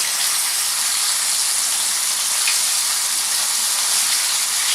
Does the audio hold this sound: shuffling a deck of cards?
no